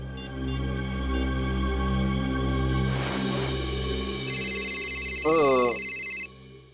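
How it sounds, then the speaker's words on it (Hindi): An electronic landline telephone ringtone trills in steady repeating tones over background music and low hum, near and fairly loud, in an Indian crime TV drama. "अब इस वक्त किसका फोन आ गया?"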